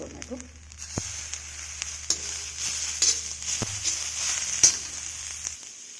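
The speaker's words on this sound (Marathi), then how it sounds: "आता त्याच्यामध्ये मी टोमॅटो घालते. टोमॅटो टाकून तो पण भाजून घेऊया आपण." Tomatoes roast in a pan with roasted coconut, producing a steady, moderate sizzle with a few sharp stirring clicks at irregular intervals.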